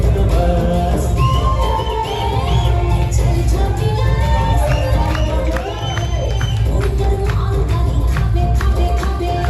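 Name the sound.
crowd cheering and applauding at award show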